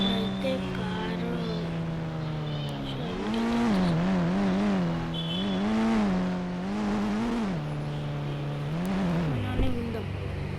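A car engine drones with a steady tone that climbs and dips several times as the revs rise and fall, fairly loud and continuous.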